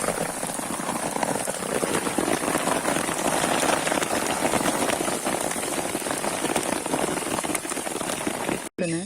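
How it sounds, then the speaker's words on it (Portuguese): Hail and rain pelt a tarp sheltering people and their parked bikes, a dense, loud, continuous patter with a brief cut near the end; voices can be heard faintly underneath. "É granizo."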